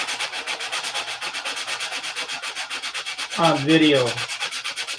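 A surface is hand sanded in steady, rhythmic back-and-forth strokes, close and even, about eight rasping passes per second; a short spoken phrase cuts in near the end.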